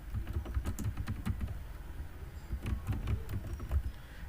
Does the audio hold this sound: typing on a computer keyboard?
yes